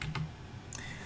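A command is typed on a computer keyboard, a few quick close key clicks in a brief, quiet burst.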